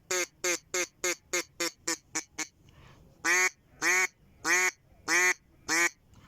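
A duck call is blown close up in a fast run of about ten sharp quacks, then a brief pause and five slower, louder, drawn-out quacks.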